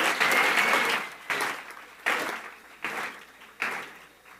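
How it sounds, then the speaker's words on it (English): Audience applause for youth contestants at a pitch competition comes in a series of bursts: a long opening round, then several short swells that each rise sharply and fade, with a voice briefly heard early on. "let's give another round of applause for all three of the youth category contestants"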